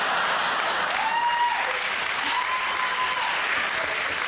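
Studio audience at a comedy panel show applauding in a steady, continuous roar of clapping, loud and close throughout, with faint cheering underneath.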